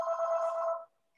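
A single phone ring sounds during an online officials' webinar, a steady electronic tone lasting under a second, then it cuts off to near silence.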